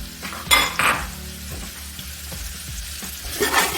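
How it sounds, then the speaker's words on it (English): Onions hit hot oil in a pot for efo riro soup, giving a steady close sizzle with a few louder bursts and scraping stirs of a utensil against the pan. "So I'm going to add in my onions to fry my oil"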